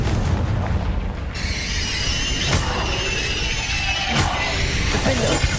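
A Confringo fire spell from the Hogwarts Legacy video game sounds as a series of loud booming blasts with crackling, shattering bursts over a dense, continuous rumble of combat effects.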